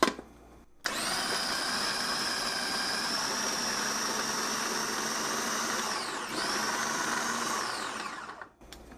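Philips food processor chops two medium tomatoes: motor whirs loudly and steadily for about eight seconds with a brief dip midway, then winds down and stops.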